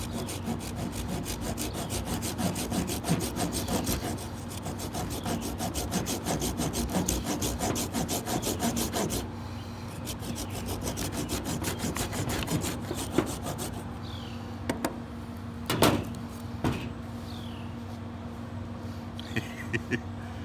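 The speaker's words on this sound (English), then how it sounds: "just break out your saw and make sawdust" A hand saw cuts through end-grain pine burl fatwood in fast, steady rasping strokes, loud and close, before the sawing slows and gives way to a few scattered knocks and rustles.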